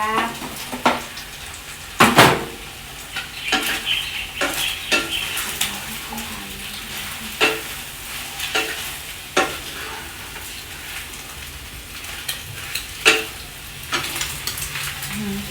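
Soft luffa gourd stir-fried in a pan for luffa with egg, a steady sizzle broken by repeated sharp scrapes and clacks of the spatula against the pan, close and clear.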